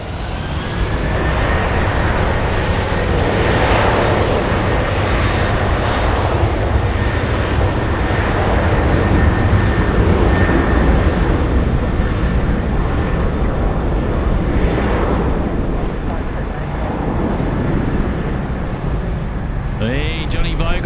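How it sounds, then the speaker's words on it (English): An airliner takes off at night from runway 16 right at Sydney Airport, a loud sustained jet engine roar filling the scene with broadband rumble and a whining tone, building as it departs. "655, runway 16 right, clear for takeoff."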